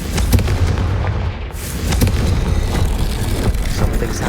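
A Confringo blasting curse goes off in Hogwarts Legacy, a dense series of loud booming blasts with sharp bursts of debris, sustained and close throughout.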